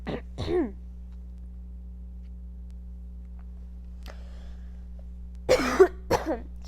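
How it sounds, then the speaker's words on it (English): Someone clears their throat in a couple of rough bursts, close by, with quiet pauses between and a low steady hum underneath. "Sorry, I'm clearing my throat."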